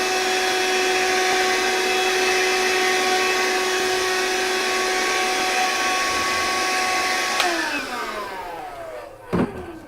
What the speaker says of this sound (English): And then we take the vacuum cleaner.